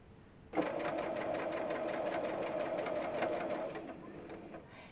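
A sewing machine starts abruptly and stitches a five-point star onto fabric, a fast regular needle rattle running close and steady for a few seconds before easing off and stopping.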